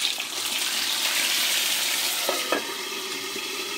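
Yellowfin tuna fries in hot cooking oil, a loud, steady, close-up sizzle with a few faint clicks near the end.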